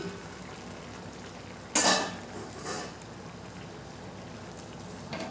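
Cooked raw mango being stirred in a pot gives a soft, even bubbling bed. One clear scrape and clatter of the spoon stands out, followed by a fainter second stir and a light knock near the end.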